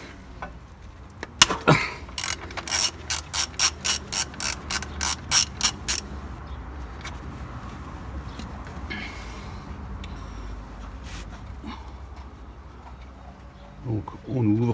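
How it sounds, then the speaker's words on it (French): A ratchet with an 8 mm Allen key opens the oil drain plug at the rear of the sump on a Ford S-Max 2.0 TDCi. After a sharp click comes a quick run of about a dozen crisp ratcheting clicks, then a quiet garage with faint background noise. "le bouchon de vidange se situe à l'arrière du carter et il s'ouvre avec une clé Allen de 8 mm."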